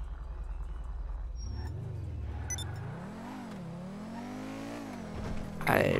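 A limousine with bulletproof tires drives in GTA V Online on PC, its engine droning steadily and rising and falling in pitch as it revs, with a sharp tire or skid noise near the end.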